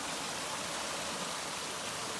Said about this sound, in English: So this is just spring water.